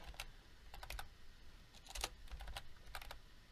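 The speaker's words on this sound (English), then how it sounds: "Now I will just have to type IP address" An IP address typed on a computer keyboard for a client connection from a Raspberry Pi: quiet, close keystrokes in short irregular bursts, with pauses in between and no talk.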